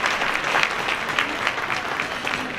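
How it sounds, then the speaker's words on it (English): Audience applause at a gala, a steady mid-volume patter of many hands clapping with faint individual claps standing out. "We should all give ourselves a round of applause for having gotten to that point"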